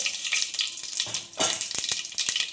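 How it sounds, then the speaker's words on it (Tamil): Mustard seeds spluttering in hot oil for tempering, a dense close sizzle with quick sharp pops and crackles scattered throughout. "கொஞ்சமாக கடுகு போட்டுக்கிறேன்"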